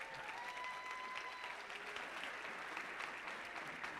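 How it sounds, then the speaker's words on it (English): A graduating high school class gives sustained, dense applause that stays even and fairly distant throughout, with no talk over it. "Give yourselves a round of applause."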